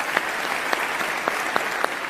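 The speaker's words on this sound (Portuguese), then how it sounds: "Eu vim aqui hoje pra te aplaudir." Steady applause from an audience at a live talk-show-style interview, a dense continuous patter of clapping with a few sharper individual claps standing out, fairly close and filling the whole moment without speech.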